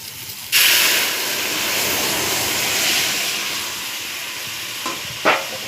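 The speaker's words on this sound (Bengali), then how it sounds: "এবার আমি ডালটা ঢেলে দেবো।" Dal poured into a pan of fried mango pieces bursts into a loud, broad sizzle that holds steady, with a couple of sharp stirring scrapes near the end and no talk.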